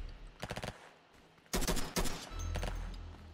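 Minigun fire in Roblox flag wars: a short rapid burst, then a louder sustained stretch of fast repeating shots broken by a brief gap, with a low spinning hum rising underneath.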